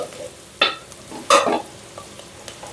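Horse gram paste goes into a hot pan and sizzles sharply in two loud bursts, then settles to a quiet hiss with a few faint taps, close up.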